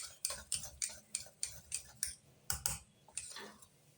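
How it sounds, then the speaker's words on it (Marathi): Batter for a breakfast dish being whisked by hand, with quick rhythmic clicking strokes against the bowl, about a dozen sharp taps in steady succession, fairly faint. "1 मिनिटासाठी परत एक वेळेस असं चांगलं फेटून घेणार आहे."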